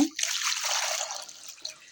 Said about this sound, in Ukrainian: Наліємо водички.